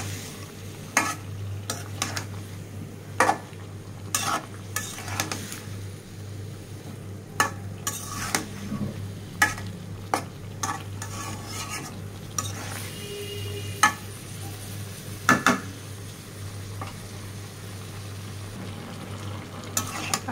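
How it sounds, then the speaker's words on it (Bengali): Steamed cauliflower and potato stir-fried in a pan, giving a low steady sizzle under repeated sharp clicks and scrapes of a spatula against the pan. "এখন অল্প একটু কষিয়ে নিয়ে এখানে মাছ দিয়ে দেব।"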